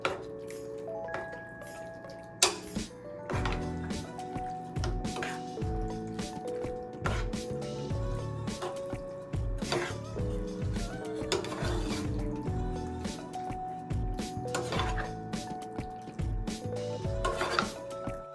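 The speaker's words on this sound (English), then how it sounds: "And we're going to add this raw, and then our crab, and we're going to mix this all up together." Raw lobster and crab being stirred together in a bowl for seafood mac and cheese, with wet squelching and scraping against the dish, a few clinks and tonal ringing in the background, and no voices.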